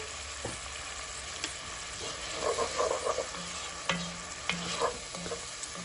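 Chickpeas and cavolo nero, seasoned with salt and pepper, sizzle gently in a pan alongside softening carrot and onion, with a few light clicks and scrapes of stirring over the steady frying hiss.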